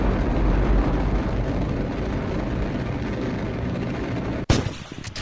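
Rocket engines fire in Kerbal Space Program RP-0, a steady loud roaring rumble that runs on, then cuts abruptly into a sharp crackling burst near the end as the stage changes.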